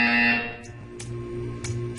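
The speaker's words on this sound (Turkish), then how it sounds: "You will hear a buzzer." A buzzer in the video game Portal 2 sounds with a loud tonal burst, followed by several fainter sharp clicks and a low background hum, with no talk.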